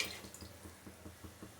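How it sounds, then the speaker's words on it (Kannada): Water from a jar pours into a pot of chicken sambar, a faint, soft gurgle pulsing in quick, regular bursts for a moment. "ನಾನು ನೀರನ್ನ ಹಾಕ್ಕೋತಾ ಇದ್ದೀನಿ"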